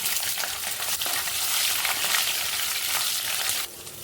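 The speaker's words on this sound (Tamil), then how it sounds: "புளி குழம்புக்கு கருவேப்பிலை, பூண்டு, 2 பச்சை மிளகாய் போட்டுக்கலாங்க." Curry leaves, garlic and green chillies fry in hot sesame oil for a tamarind bitter gourd curry, making a loud, close, steady crackling sizzle that drops slightly near the end.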